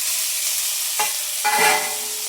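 Red chilli pieces fry in a pan with a steady, close hiss of hot oil, interrupted by a couple of sharp scraping stirs and a brief surge of sizzling near the end.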